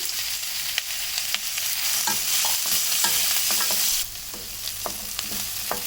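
Chopped onions sautéing in oil for a Tamil-style chicken masala gravy, a continuous hot sizzle with repeated scraping and stirring clicks of a spatula, dropping slightly in intensity partway through.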